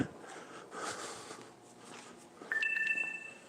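A phone chimes a low-battery notification, a short pair of clear electronic tones near the end over outdoor background noise.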